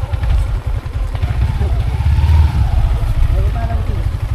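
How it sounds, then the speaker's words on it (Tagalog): Motorcycle engine running with a low, steady putter close by, mostly idling with slight revving, while people talk over it. "Sakay ako motor."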